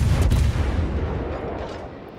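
Torpedoes launched from a warship in World of Warships, a heavy low boom with a rumbling thump at the start that fades gradually into a dull wash of sound.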